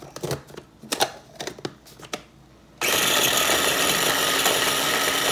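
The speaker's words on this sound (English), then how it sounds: "Blend that up really good." Tomato salsa vegetables from a home garden churned in a blender. A few sharp knocks and clatters come first, then the motor cuts in abruptly with a loud, steady roaring whir.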